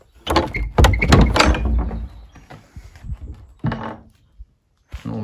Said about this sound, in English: I'll go through the other door, which takes us upstairs